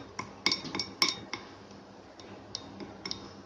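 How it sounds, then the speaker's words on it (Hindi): Spoon scooping rice and potato cutlet batter, tapping and clinking against a metal bowl in a few sharp, irregular clicks, close but quiet, with no talking. "इसी चम्मच से इस तरीके से निकालेंगे और ये अपने बैटर को बचाते हुए यूँ डाल देंगे।"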